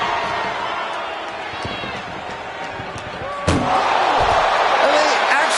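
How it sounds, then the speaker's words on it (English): In WWE 2K25, an ambulance door slams shut with one loud, sharp bang partway through a brawl. The impact cuts through a steady crowd roar while a commentator talks. "doing their best just to shut that first door"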